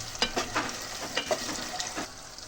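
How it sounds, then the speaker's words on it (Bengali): Chopped tomatoes fry in a pan over sautéed onions, a steady close sizzle broken by several scraping stirs of a spatula in an even rhythm, with no talk. "এখন টমেটোটা ভেজে নেব।"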